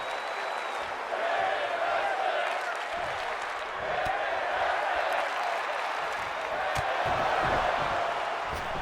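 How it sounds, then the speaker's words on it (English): Wrestling event crowd at a women's wrestling tournament cheering and applauding loudly and continuously, a dense roar of clapping and voices that swells in waves throughout. "And the crowd so loud that it gave me tinnitus."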